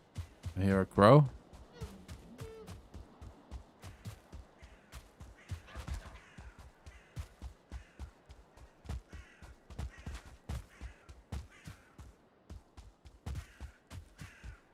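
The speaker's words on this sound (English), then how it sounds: "I hear a crow." In the Valheim game a crow caws in a quick loud burst near the start, followed by a long run of sharp, evenly spaced clicks and taps with faint talk mixed in.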